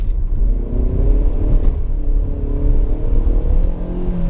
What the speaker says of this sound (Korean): 지금 이제 풀 가속하는 상태인데 어 엔진 소리가 이제 크게 들어오긴 하지만